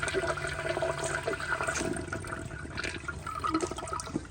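A 1997 Kohler Dexter urinal flushes, a continuous close rush of water that gurgles and swirls through the bowl at steady loudness, with no talking.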